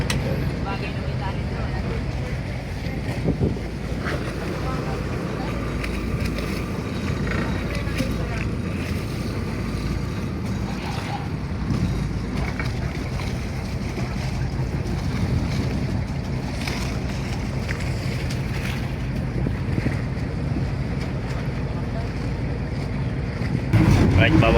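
A boat's engine drones steadily on open water during a sea trial of a new propeller, with wind buffeting the microphone and waves washing alongside, and people talking over the continuous noise.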